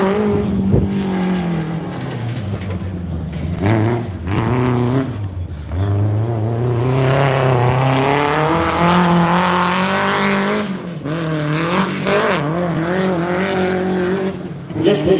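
Rally cars in the Loveday 400 race, engines revving loudly and rising and falling in pitch as they pass close by, with tyre noise and a brief gap partway through.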